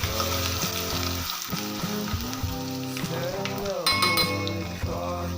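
A garlic and curry leaf tempering frying in oil, a steady close sizzle with occasional utensil clinks while someone talks over it.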